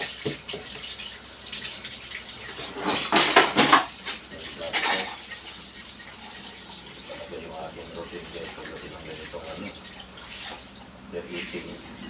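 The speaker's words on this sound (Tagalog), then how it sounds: "magbubugas ako ng plato" Water runs from a tap while dishes and cutlery clatter and clink nearby, with louder scraping bursts midway, then quieter rinsing.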